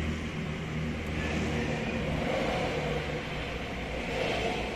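Fast cars streaming along a busy road beside a church rectory in hilly country, a continuous faint whooshing rumble of traffic heard from behind a fence, steady with no talk.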